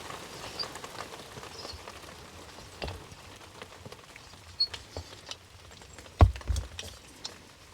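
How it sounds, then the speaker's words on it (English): Rain during a storm at a solo campsite patters faintly and steadily on surfaces, with scattered louder drops and a sharper knock near the end. "Comes the rain."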